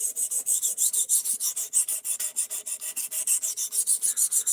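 A knife blade is rubbed back and forth on a whetstone in steady, rhythmic strokes, close and fairly quiet, with a bright, gritty rasp on each pass and no voices.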